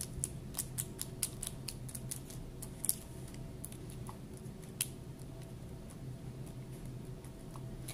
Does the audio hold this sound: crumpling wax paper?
yes